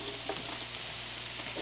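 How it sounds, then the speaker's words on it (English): Onions frying in a pan for creamed codfish, a steady soft sizzle and crackle close by, unbroken and even throughout the short stretch. "just put your onions on into your frying pan, and get this frying till it starts to wilt down"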